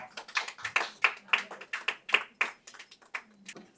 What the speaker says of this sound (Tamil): நன்றாக கைத்தட்டலாம்.